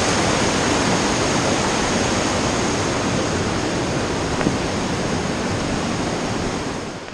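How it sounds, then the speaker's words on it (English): A waterfall on Porters Creek, swollen after rain, gives a loud, steady, broadband rush of falling water close by, with no voices. "it's been raining, so we've got a waterfall here on Porter's Creek Trail"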